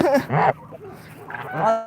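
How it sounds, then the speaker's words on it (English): Geese honking at close range, several loud nasal calls in quick bursts from birds crowding around a person. "I've got this goose nibbling on me and this goose nibbling on me."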